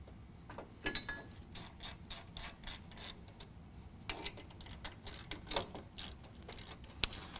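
A hand ratchet tightens 15mm bolts on a front winch bumper bracket of a 2019 Chevy Silverado 1500, giving repeated close bursts of rapid metallic clicking with short pauses between strokes, no talk.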